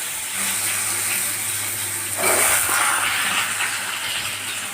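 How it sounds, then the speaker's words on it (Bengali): Pointed gourd coated in turmeric drops into hot oil with cumin seeds and sizzles, a steady broadband hiss that swells briefly as the pieces go in, close and alone. "আর এই হলুদ মাখানো পটলগুলো তেলে ছেড়ে দিলাম।"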